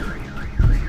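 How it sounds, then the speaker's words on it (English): A car alarm wails with a repeating, rising-and-falling electronic tone, heard clearly at a moderate level with no talking over it. "you probably can hear the fucking car alarms going off"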